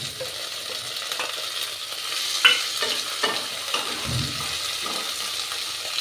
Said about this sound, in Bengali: একটু ভাজা ভাজা করে দেবো